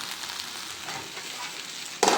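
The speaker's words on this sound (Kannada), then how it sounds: "ಜಸ್ಟ್ ಎಣ್ಣೆಯಲ್ಲೇ ಫ್ರೈ ಮಾಡ್ಕೋಬೇಕು." Okra dry-frying in hot oil gives a steady close sizzle and crackle that continues alone, with a sudden louder burst of hiss near the end.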